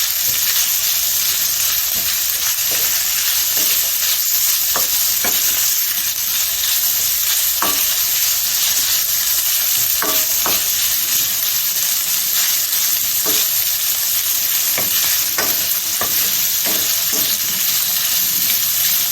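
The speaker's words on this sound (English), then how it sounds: "We have our saltfish all fried up" Loud, steady sizzling of saltfish frying in a hot pan, broken by scattered scraping clicks of a utensil stirring, with no talking.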